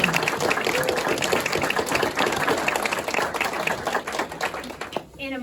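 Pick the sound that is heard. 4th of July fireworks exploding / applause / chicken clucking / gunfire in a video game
applause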